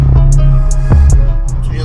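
A Volkswagen Golf 5 GTI with a 200 hp engine idles, a loud, steady low rumble that stays close and constant, with faint ticks above it and no other sounds.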